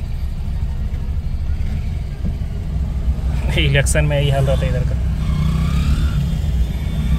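Crowded road during an election procession, with a steady low rumble of idling and moving vehicles and a brief horn-like honk partway through, under close conversation and laughter.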